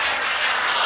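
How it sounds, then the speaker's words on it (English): A brief, loud, airy whoosh of an RC model jet passing overhead, a broad hissing turbine roar without speech. "But we got jets down here today."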